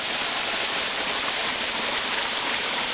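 A small two-meter waterfall cascade in wild, dense woods, a steady broadband rush of falling water, close and continuous, with no voices.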